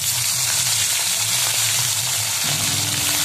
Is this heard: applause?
no